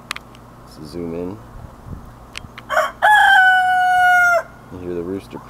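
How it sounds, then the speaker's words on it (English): A rooster crows once, loud and close, a long drawn-out call, with softer clucking from other hens before and after. "You hear the rooster crowing."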